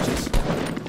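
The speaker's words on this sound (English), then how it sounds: "Love me some gunfire." Gunfire rattles in Fortnite: Battle Royale, a dense, continuous fusillade with one heavier report partway through, loud and close over the game's ambient noise.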